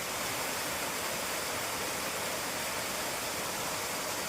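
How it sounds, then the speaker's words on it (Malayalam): A stream near a house flows with a constant, even rushing wash of water that holds steady from start to finish, with no one speaking. "ഇതാണ് നമ്മുടെ വീടിൻ്റെ അടുത്തുള്ള ഒരു അരുവി."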